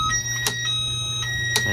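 A Honda Click motorcycle's alarm sounding repeatedly during troubleshooting of a scooter that will not start, giving steady electronic tones broken by short chirps, close and fairly loud.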